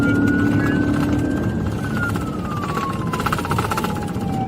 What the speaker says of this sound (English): troopers stayed behind with lights and sirens activated